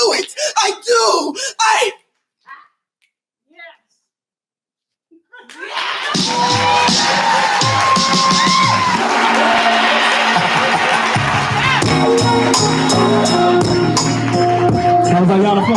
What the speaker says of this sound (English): Sounds like y'all applause, y'all.